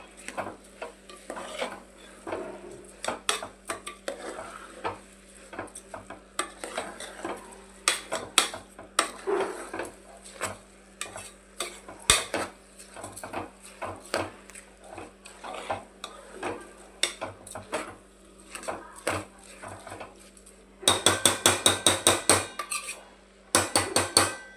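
Rice stirred into vegetable pulao in a pot, with irregular scraping and tapping of a ladle against metal under a faint sizzle, ending in a burst of quick rapid scrapes.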